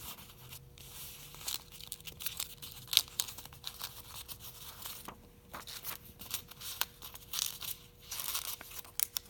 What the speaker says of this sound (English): Take your paper, roll it around.